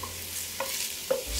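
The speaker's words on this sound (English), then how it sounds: "I'll saute my onions until they're soft and translucent" Onions sautéing in sunflower oil give a quiet, continuous sizzle, nearby. A couple of soft scrapes from stirring break through it.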